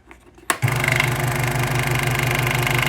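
A scroll saw starts up after a brief quiet moment, then runs with a loud, steady, rapid mechanical chatter and buzz that holds to the end.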